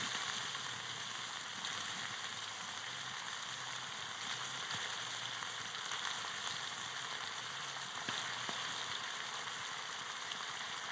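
Duck meat with potatoes frying in a pan, a steady sizzle with faint scraping as the pieces are stirred, moderately quiet and alone without talk.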